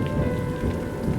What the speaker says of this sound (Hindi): बारिश पूरी रात बिना रुके चलती रही।